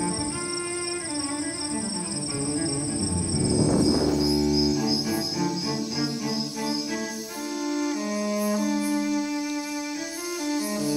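Crickets chirp in sustained, pulsing trills, layered and close, with overlapping tonal calls running throughout and a brief swelling burst of noise early on.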